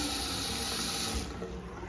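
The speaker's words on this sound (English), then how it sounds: "Get the faucet." A hotel bathroom sink faucet in Cebu City runs in a steady, close hiss of flowing water that eases slightly toward the end.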